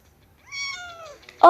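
A cartoon cat meows once inside Toca Life World, a clear descending call with bright harmonics, followed by a sudden loud clatter at the end.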